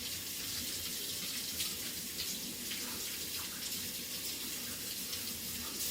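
Tap water runs steadily over a fresh yellow pepper in a kitchen sink, a constant close splashing hiss with no talking.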